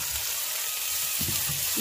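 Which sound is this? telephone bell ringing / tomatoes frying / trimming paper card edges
tomatoes frying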